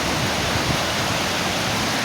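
Njupeskär, Sweden's highest waterfall, roars in a dense, constant, loud wash of falling water heard from near the front of the falls, with no talking.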